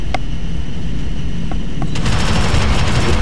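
Sustained automatic gunfire rattles nonstop as squads blast aliens in the top-down shooter Alien Swarm, a loud, dense wall of rapid shots with occasional sharper cracks.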